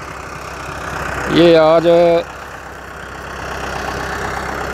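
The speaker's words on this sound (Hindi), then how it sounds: "ट्रैक्टर चल रहा है।" A tractor engine runs steadily in the background while a sugarcane field in Haryana is prepared for sowing. The low, constant hum is briefly covered by someone speaking.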